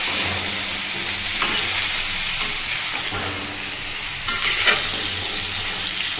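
Turmeric being stirred into a homemade pickle mixture in a pan, a steady soft sizzle and scraping stir running continuously with a brief louder scrape near the end, no talking.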